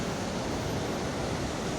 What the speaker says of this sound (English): this right here is Europe's widest waterfall